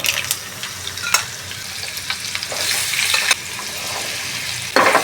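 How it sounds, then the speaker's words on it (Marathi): Hot mustard-seed tempering poured onto raw mango pickle, giving a loud burst of sizzling and crackling that keeps frying steadily, with stirring scrapes and a sharp fresh hiss near the end. "आता आपण फोडणी घालूया लोणत्याची फोडणी"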